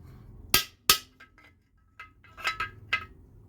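A big ball peen hammer strikes a thin metal chainsaw muffler from a ported Husqvarna-style G395xp saw, giving two loud, sharp metallic bangs followed by softer clinks and several lighter taps, close and alone.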